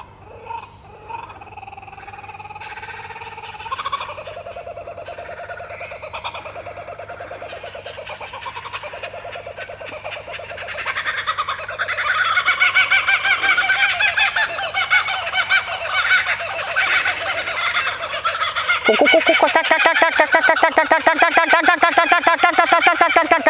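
Kookaburra calling in Australia, starting with scattered chuckles that build into a long, loud, rhythmic cackling laugh chorus, close and dominant, swelling to a raucous climax.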